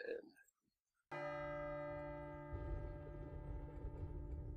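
A bell in the video game Eve Online rings out after a brief silence, one deep resonant strike with long sustained overtones that hum on and swell slightly, fairly faint overall.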